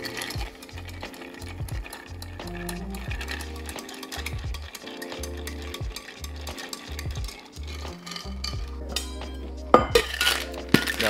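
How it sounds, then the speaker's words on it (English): Ice clinking and rattling against a glass as a cocktail is stirred with ice, a steady close churning that runs alone for several seconds before a few sharper clinks near the end. "I'm gonna stir for like 20 seconds."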